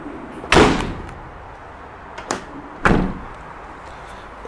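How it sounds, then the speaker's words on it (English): Rear doors of a Vauxhall Vivaro van are worked in two loud bursts, a heavy clunk of latch and panel followed by a smaller knock, then a second strong thud about two seconds later, with no voices. "As I open the back doors,"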